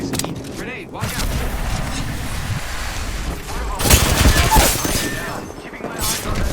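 Enemy squad gunfire in a shooter video game, bursts of rapid shots and booming impacts over a busy battle mix, with a heavier loud volley near the middle.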